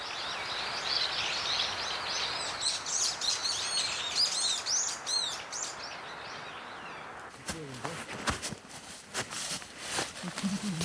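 Wild birds chirp and sing on a mountain near the Mangyeong River, with dense, rapid calls layered in the first half, then scattered sharper calls and rustling toward the end.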